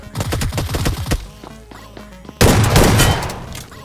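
A shotgun blast in BGMI PUBG Mobile hits as a sudden, loud burst that stays rough and noisy. Before it come a second of busy, voice-like game sounds and a quieter pause.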